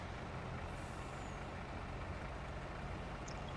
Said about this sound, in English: the truck is driving backwards, so the combine harvester can continue on his route